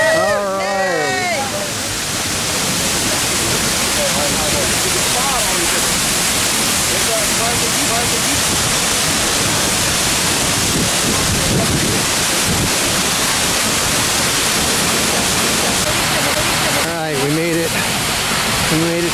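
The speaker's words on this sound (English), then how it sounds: "We're behind the waterfall." A waterfall roars from behind the falling water as a dense, continuous, loud rush of spray. Voices break through briefly near the start and near the end.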